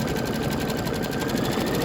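A machine embroidery unit stitching continuously, a close, steady, rapid mechanical whir with a fast needle rhythm and no pauses or voices.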